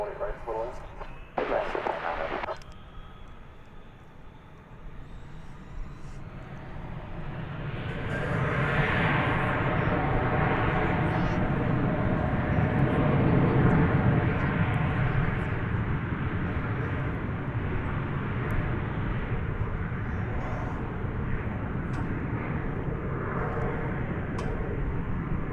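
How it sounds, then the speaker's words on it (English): A passenger jet taking off from runway 18 Left at DFW Airport, a roaring engine rumble that swells and holds loud for most of the clip, with brief voices and radio chatter near the start. "So we'll watch this plane take off"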